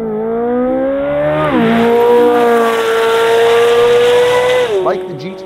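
A Porsche GT3 RS braking hard from 150 mph on a test track: a loud, steady engine drone with strong harmonics that drops in pitch as the car slows, ending in a brief squeal near the stop.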